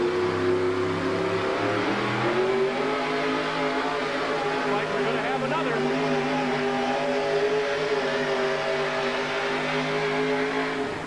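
A monster truck engine roars and revs as it pulls a sled at a 1987 USHRA event in Tucson, a steady loud mechanical drone that climbs in pitch early on, with an announcer talking over it.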